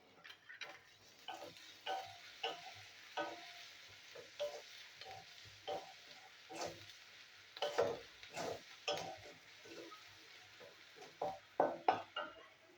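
Onions frying with salt in a pan on a gas stove, heard as quiet, close clicks and scrapes from stirring that come in an irregular rhythm over a soft, low sizzle, with no voices.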